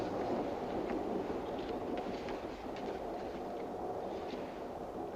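Steady rumble inside a moving passenger train, a continuous broadband roar of wheels and carriage noise with faint clicks, running loud and unbroken throughout with no talk.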